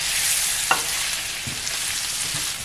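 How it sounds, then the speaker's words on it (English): Coriander powder and cooked potatoes are dry roasted in a pan without oil alongside okra, a soft sizzling hiss with a sharp utensil scrape and a couple of dull stirring knocks. "I'm just dry roasting it because you can see there's no oil in the center here"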